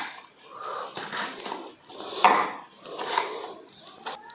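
A knife chops green chillies finely on a board for chilli chicken garelu, a steady run of quick, close taps with short pauses between bursts and no talking.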